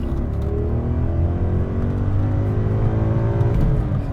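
A BMW E39 M5 with its S62 V8 revs as the car pulls away, a steady deep engine drone with rising harmonic tones, close and loud, with no talk.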